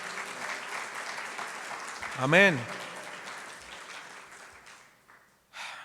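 Clapping from a church congregation during a sermon swells and then fades, with a voice calling out over it midway and a final burst near the end.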